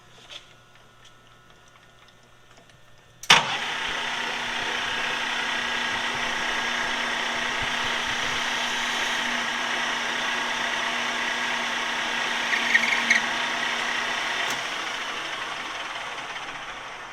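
A machine starts abruptly and runs as a steady, loud whirring drone while chamfering the corners of a stainless steel pin, the tone holding even with a brief rougher patch near the end.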